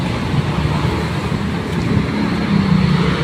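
Steady road traffic hums and rumbles near the MRT-7 depot in Barangay 183, Quezon City, in a muddy area. A continuous broad wash of passing vehicles runs loud throughout, with no talking.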